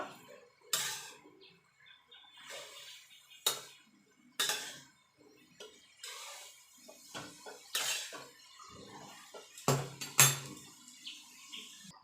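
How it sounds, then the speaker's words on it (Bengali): Cabbage being mixed with spices in a pan, scraped and tossed with a utensil, giving sparse, uneven clinks and scrapes spread across the stretch with quiet gaps between, close by and without talk. "বাঁধাকপিটা ভালো করে আমি মশলার সঙ্গে মিশিয়ে নেব"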